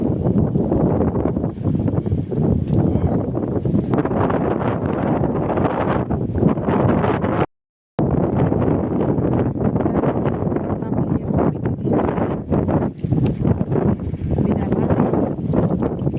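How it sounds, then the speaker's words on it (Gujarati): Strong wind blows across an open farm field during groundnut sowing. It roars and buffets the microphone loudly and continuously, with one brief dropout midway. "પવન બહુ છે"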